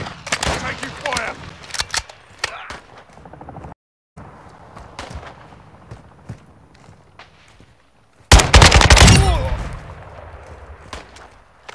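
Gunfire crackles through a Call of Duty battle royale match, scattered sharp shots and short automatic bursts with footsteps between, then a loud heavy burst of fire near the end; voices talk over parts of it.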